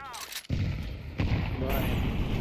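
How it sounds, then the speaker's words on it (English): A flashbang grenade goes off in Counter-Strike 2, a loud close bang followed by a sustained blast of noise and a second burst, with a brief voice before the detonation. "Throwing the flashbang! Grenade out!"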